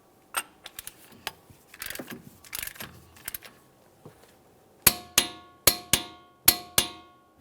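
After some light clinking and tool handling, a hammer strikes a punch to peen the axle nut of a 2006-2012 Ford Fusion into its slot, five or six sharp, ringing metallic blows, close and evenly spaced.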